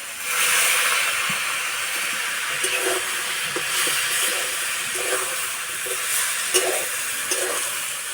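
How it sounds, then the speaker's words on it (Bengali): Jackfruit and vegetables in a hot pan hiss loudly as a little water is added, a steady broad steam-like rush with soft stirring knocks spaced through it, close up and without voices. "অল্প একটু জল দেবো"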